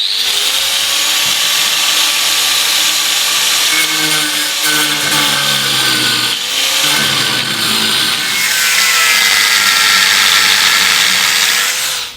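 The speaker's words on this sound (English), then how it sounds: "I've cut in with the angle grinder all round the weld now" An angle grinder with a cutting disc cuts through a steel weld on a trawler's plate, a loud continuous high whine that shifts pitch as the disc bites, running the whole time without talk.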